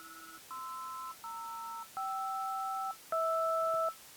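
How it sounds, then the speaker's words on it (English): Landline telephone keypad-style tones come from a Dexed DX7 synth, five sustained two-note beeps in a row, each lasting around a second with short gaps, clean and alone over a faint hiss. "landline phone tones"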